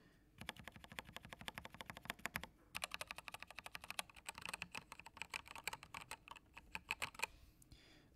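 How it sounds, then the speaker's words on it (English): Quick, even typing rattles on a mechanical keyboard fitted with Gateron Yellow linear switches, bursts of clacky keystrokes separated by short pauses, close and fairly quiet. "So I have Gateron Yellows, which are a, I think, is it linear switch rather than a tactile switch?"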